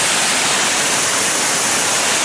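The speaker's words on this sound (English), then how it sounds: "Waterfalls, whether they're man-made or natural, are just amazing." A waterfall at Otter Creek along the Blue Ridge Parkway in Virginia rushes in a steady, loud, broadband roar with no voices.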